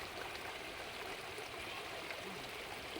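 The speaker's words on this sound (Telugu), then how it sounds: "ఇక చూడు నీళ్ళు ఎట్లా పోతున్నాయో" Water of the Godavari river rushing past after two days of rain, a steady broadband roar with no breaks, close and fairly loud throughout.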